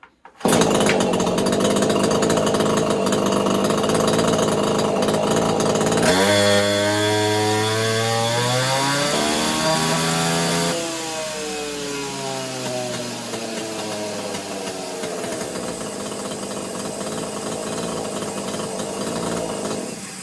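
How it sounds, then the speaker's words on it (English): A Husqvarna 543XP clone (Neotec 843, 43cc) chainsaw with modified exhaust screams at full throttle on a dyno for about twenty seconds, its pitch sagging and recovering midway, loud and close. "We're going to do another pull on the exhaust mod."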